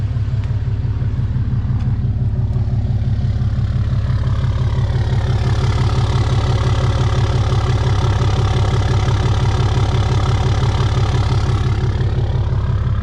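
A deleted Ram 3500 diesel engine idles close by with a steady, loud low rumble and fast rhythmic clatter, holding an even note for the whole stretch with no talking.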